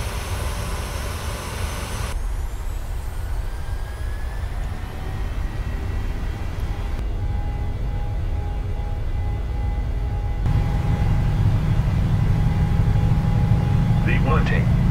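Boeing 737 takeoff roll for a Malaysia Airlines flight in a PMDG flight simulator, a continuous jet engine roar with a broad rumble that steps up in level, and faint tones rising underneath.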